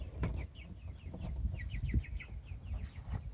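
Chickens near a coop cluck and chatter softly in repeated short bursts, moderately close, over low background noise.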